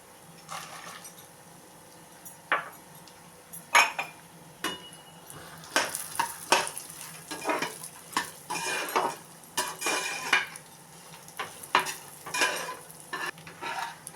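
Cashew nuts roasting in a heavy-bottomed pan, with repeated metal spoon scrapes and clinks as they are stirred over a light sizzle, irregular bursts of stirring close by and no voices.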